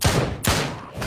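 Gunshots fired in the VR shooter game Drop Dead Dual Strike, two heavy, booming bursts in quick succession, loud and close with dense rumbling tails.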